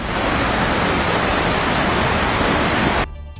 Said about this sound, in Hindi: तमाम रास्तों पर पानी इतनी तेजी से बहता दिखा मानो सब कुछ बहा ले जाएगा।